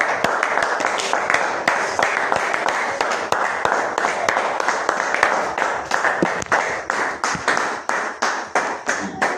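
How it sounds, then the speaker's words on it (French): A church congregation at a revival service claps together in a steady, dense patter that stays loud and continuous throughout, with faint voices mixed underneath. "Applaudissons encore pour le Seigneur Jésus."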